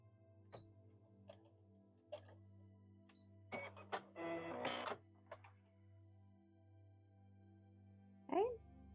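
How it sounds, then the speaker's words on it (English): Sewing a long straight stitch around apron pieces, a home sewing machine ticks and whirs in short quiet bursts with gaps between, set against a faint steady hum. "I'm using a long straight stitch."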